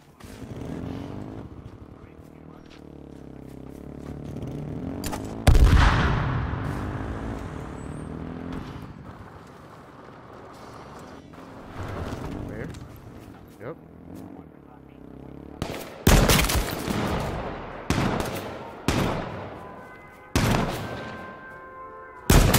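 Video game gunfire rings out in sharp, loud bursts, with several close shots clustered late amid engine-like rumbling and other game noise, while a person talks over it.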